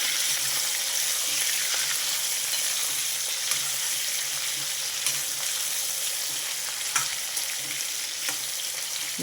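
Bitter gourd pieces fry in a pan, giving a continuous even sizzle close by with faint scattered crackles and occasional light stirring taps, with no voices.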